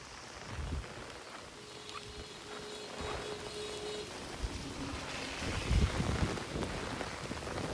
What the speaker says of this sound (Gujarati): અહીંયા પણ ફૂલ વરસાદ છે